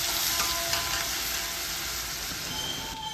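Garlic and ginger paste fries in hot oil with a pinch of asafoetida, a close, steady, hissing sizzle that runs evenly throughout, with faint stirring and no voices.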